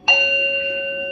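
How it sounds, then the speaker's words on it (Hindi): A bell is struck once, ringing out with a bright, sustained metallic tone that lingers steadily without fading much. "आप इसको घंटी के रूप में भी बजा सकते हैं"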